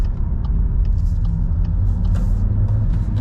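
A car pulls away from a junction on a driving-test route, its engine rumbling low and steady as it gains speed, heard from inside the cabin without talk.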